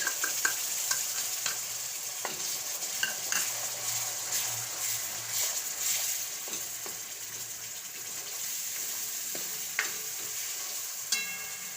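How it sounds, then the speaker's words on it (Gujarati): Grated tomato fries with chutney in a pan over a very low flame for a boiled potato curry, giving a soft, continuous sizzle with scattered stirring scrapes and small pops. "હવે આપણે આ ટમેટાની ખમણેલી નાખી દઈશું"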